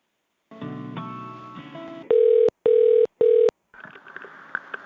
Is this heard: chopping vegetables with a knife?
no